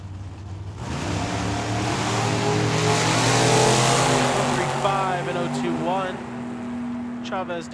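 Drag racing cars, one a Chevy, launching down the quarter mile at Tucson Dragway: engines roar up loudly, build to a sustained scream, then fade, with a voice talking over the run.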